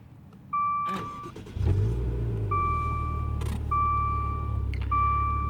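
Push-button start of a 2015 Maserati Quattroporte SQ4: an electronic chime sounds, then the engine cranks and catches into a loud low rumble that settles into a steady idle, with the chime repeating over it.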